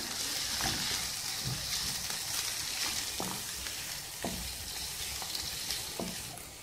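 Peppers fry with onions in a little oil in a pan, a steady dense sizzle with occasional scraping clicks from a small spoon stirring, close and continuous without talking.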